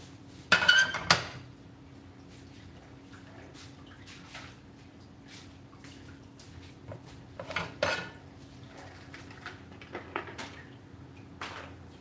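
Pots and dishes clanking and clinking in a home kitchen during cooking, with a loud burst of clatter near the start and scattered softer knocks and taps spread across the rest, no talking.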